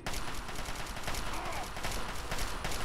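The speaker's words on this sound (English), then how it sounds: "Gonna shoot him in the head!" Fallout 3 gunfire rattles in a dense, continuous barrage of rapid, loud shots throughout, with a faint trace of voice underneath.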